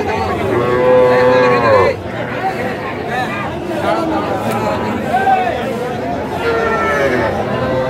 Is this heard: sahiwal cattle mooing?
yes